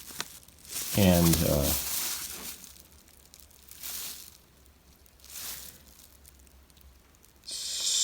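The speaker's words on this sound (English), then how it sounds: "I went to unwrap the top of the drum seat, you know, the drum throne," Plastic packaging is peeled and crinkled off the padded seat top of a Donner DED-200 drum throne, in close crackling bursts separated by pauses, with a brief spoken word near the start.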